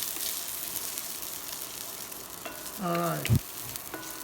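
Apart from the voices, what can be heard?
garlic sizzling in a hot pan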